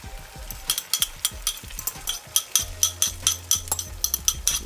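Beaten egg hitting a hot pan for a sausage omelette, a soft sizzle under a steady series of sharp metallic taps and scrapes of a utensil against the pan, close and rhythmic.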